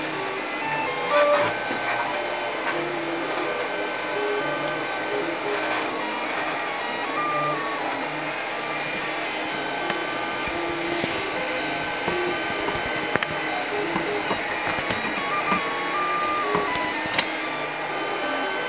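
A 3D printer prints flexible filament onto fabric, its stepper motors whining and buzzing continuously with small pitch shifts and occasional clicks, steady and close without talk.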